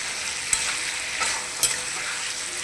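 Onions sauté and get stirred in a pan in village-style home cooking, with steady soft sizzling broken by several sharp scraping stirs of the spoon against the pan, close up and without voices.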